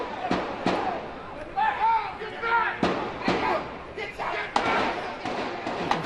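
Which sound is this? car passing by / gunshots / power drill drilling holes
gunshots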